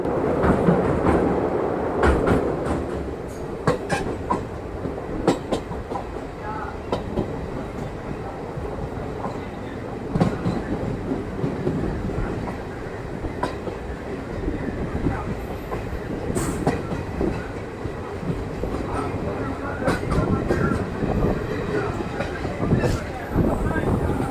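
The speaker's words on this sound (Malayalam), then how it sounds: "പാമ്പൻ റെയിൽവേ സ്റ്റേഷൻ്റെ ഒന്നാമത്തെ പ്ലാറ്റ്ഫോമിലേക്കാണ് നമ്മുടെ ട്രെയിൻ ഇപ്പോൾ എത്തിക്കൊണ്ടിരിക്കുന്നത്" Rameswaram passenger train crossing the new Pamban bridge toward Pamban station, a steady loud rumble of carriages with intermittent clicks from the wheels over about twenty-four seconds, with a voice talking over it at times.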